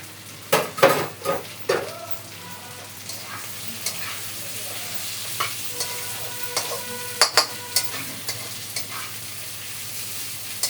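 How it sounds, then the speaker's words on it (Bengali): Grated coconut and a fried hilsa fish head are stirred into a sizzling pumpkin curry, with several sharp spoon scrapes against the pan near the start and lighter stirring clicks later over a steady background fry. "এর মধ্যে নারকেলটা দিয়ে দিচ্ছি, এর মধ্যে মাছের মাথাটা যেটা ভেজে রেখেছিলাম সেটাও দিয়ে দিচ্ছি।"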